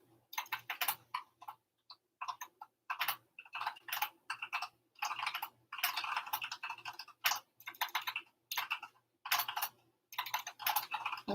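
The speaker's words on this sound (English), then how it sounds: "typing furiously in the background" Rapid, steady typing on a computer keyboard, with dense bursts of clacking keystrokes separated by brief pauses, close and clear with no voices.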